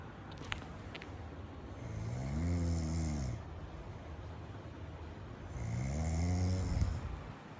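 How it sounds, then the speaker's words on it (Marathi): A man snores loudly at night, two long rasping breaths a few seconds apart, close and steady in an otherwise quiet room. "याच्या घोरण्याने मला झोप नाही लागत आहे."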